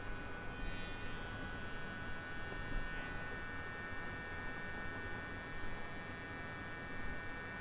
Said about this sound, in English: I'm just touching certain hairs, and I'm just trimming them up a little bit.